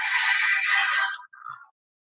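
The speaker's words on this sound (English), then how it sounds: "Oh, who's that ringing me up?" A phone rings with a bright electronic ringtone, a loud sustained trill for about a second that cuts off and is followed by a shorter, fainter chirp before silence.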